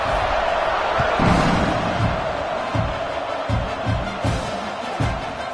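A college football stadium crowd roars before the kickoff of Tennessee at Oklahoma, a sustained distant wash of cheering punctuated by thumps and swells.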